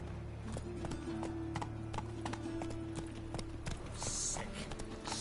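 Horse hooves clip-clopping at a steady gait in The Witcher 3 video game, rhythmic and fairly close over a constant game soundscape, with no voices.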